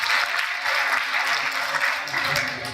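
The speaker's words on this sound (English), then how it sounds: "Big round of applause for the world's greatest DJ" Crowd of students in a high school audience applauding a DJ, a dense steady wash of clapping throughout with possible cheers mixed in.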